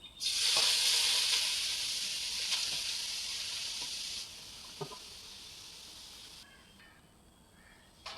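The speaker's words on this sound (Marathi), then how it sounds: "त्या कढईमध्ये हा कीज घालून घेऊया" Grated carrot sizzles loudly in ghee in a kadhai, a steady close frying hiss that eases after about four seconds and fades out near the end, with a few faint stirring clicks.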